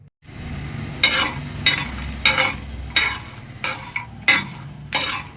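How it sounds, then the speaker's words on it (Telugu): Roasted chicken curry sizzles in a pot while a utensil stirs and scrapes it in about seven rhythmic, evenly spaced bursts over a steady low frying hiss. "ఇలా వేగనివ్వాలి"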